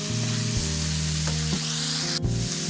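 Ground meat with tomato paste fries steadily in a hot pan, a continuous close sizzle broken by brief scraping stirs, with a low steady hum underneath.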